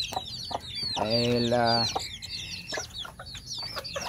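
Black meat chickens cluck and chirp busily while eating corn, with one longer drawn-out call rising above the steady pecking chatter, close by, and a voice speaks briefly.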